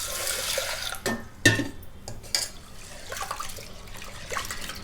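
Toor dal lentils are washed in water, with sloshing and splashing bursts, a few sharp splashes and trickling between them, close by and moderately loud.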